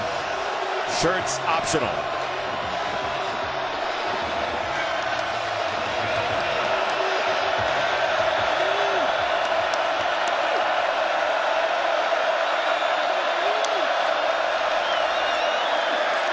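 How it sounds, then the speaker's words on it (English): Steady roar of a big stadium crowd at a TCU at Kansas college football game, a broad continuous wash of cheering with a few sharp whoops and bangs early on, a commentator's voice talking over it. "let's listen to this crowd. They've waited a long time for this."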